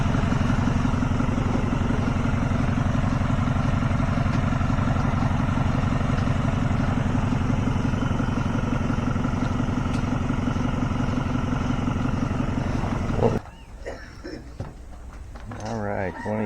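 An old diesel engine with no emission controls idles nearby with a steady, rough, unbroken clatter that cuts off abruptly near the end, leaving quieter background noise.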